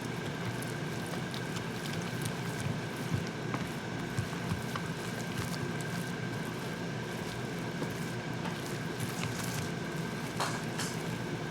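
Steady stirring and mixing of quinoa baby food with two eggs in a bowl: a continuous, soft scraping and swishing texture that stays even throughout, with occasional faint clinks and no talk.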